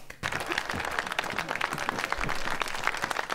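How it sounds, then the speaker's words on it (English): A small group of people claps loosely indoors in a scattered golf clap, steady and moderately close for a few seconds, with some voices mixed in. "Golf clap."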